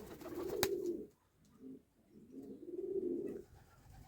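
A pigeon coos up close in soft, throaty phrases, a longer roll at the start, short notes in the middle and another rolling coo near the end, with a brief click early on.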